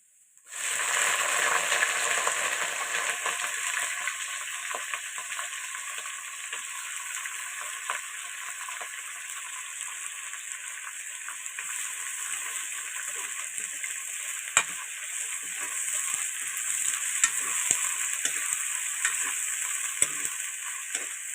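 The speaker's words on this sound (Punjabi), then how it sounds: "ਪਿਆਜ਼ ਪਾ ਕੇ ਜੀ ਤੇ ਇਹਨੂੰ ਵੀ ਥੋੜਾ ਥੋੜਾ ਬਰਾਊਨ ਕਰੂੰਗੇ" Onions frying in a pan while a homemade vegetable dish is cooked, a steady close sizzle with broadband crackle that runs unbroken the whole time, light stirring scrapes now and then, and no voices.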